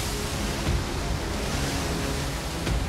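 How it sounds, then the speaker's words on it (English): Ocean waves surge in on a fast-rising tide, a steady, loud wash of broadband surf roar with faint swells and no voices. "In the few minutes we've been here, the waves have gotten higher, and the land beneath our feet is rapidly disappearing."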